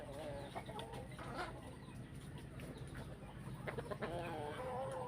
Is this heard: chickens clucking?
yes